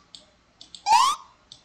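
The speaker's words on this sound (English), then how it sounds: "So jump sounds like this." Short cartoonish jump effect from a Scratch game: a single quick rising whistle-like sweep lasting about a quarter second, bracketed by faint clicks, clean and isolated.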